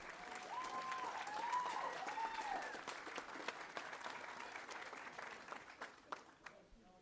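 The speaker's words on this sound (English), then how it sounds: "How about a big round of applause for these kiddos?" Steady applause from a crowd at a school board meeting honoring children, fairly soft and sustained, with voices speaking over it.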